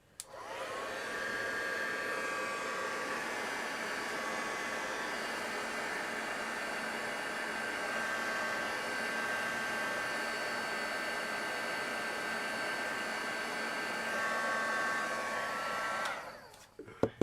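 A hair dryer runs steadily for about sixteen seconds, drying glue on a small handmade miniature craft piece, a continuous loud whoosh with a whining motor tone that cuts off near the end.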